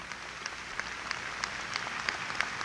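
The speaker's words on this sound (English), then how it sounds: "Let's give the Chancellor a round of applause to show him how much we appreciate him." A round of applause for the Chancellor from an audience at SUNO in 1994, a steady wash of clapping with scattered sharper claps, moderately distant and unbroken throughout.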